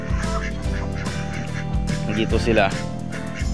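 Muscovy ducks on a duck farm call in a busy chorus of short honking notes, close by and ongoing, while a person talks over them.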